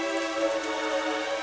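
Rain on a stormy night, a steady hiss of drops striking surfaces, continuous and fairly close with no pauses, alone without any voices.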